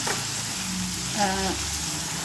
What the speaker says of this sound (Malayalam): അതൊക്കെ എണ്ണയിലേക്ക് ഇട്ടിട്ടുണ്ട്. ഇതൊന്ന് നന്നായി വഴറ്റിയെടുക്കാം കേട്ടോ.